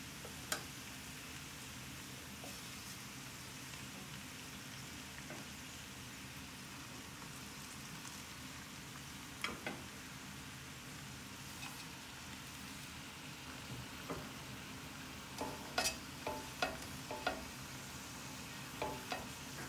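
Short ribs searing in a hot pan with beef stock ready to add, a dense steady sizzle with scattered pops and crackles that grow busier toward the end.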